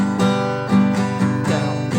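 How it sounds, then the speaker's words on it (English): An acoustic guitar strums a steady down-down-up-up-down-up pattern, repeating chords in a bright, even rhythm about twice per second, played alone and close. "We're going to start off with probably one of the most popular strumming patterns"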